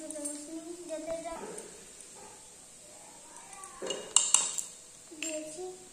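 Two spoons clink and scrape against small toy cooking pots while children cook a pretend marigold flower dish for dolls. Light metallic taps come in a few clusters beneath steady children's chatter.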